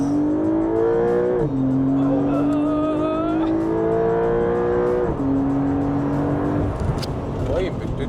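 A Porsche 911 engine pulls hard under acceleration, its loud droning note climbing steadily and dropping at two gear shifts before climbing again, heard from inside the car with people talking.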